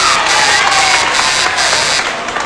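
A 1977 Price is Right game show studio audience applauds and cheers loudly, a dense, continuous roar of clapping and raised voices that holds nearly level throughout.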